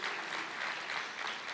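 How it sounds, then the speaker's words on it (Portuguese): A church congregation applauds in praise during a sermon, a dense, even wash of clapping that stays steady and moderately distant throughout. "Aplaude ao Senhor"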